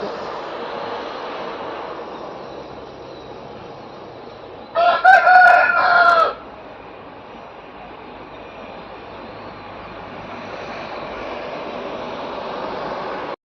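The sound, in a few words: rooster crowing in the morning near a highway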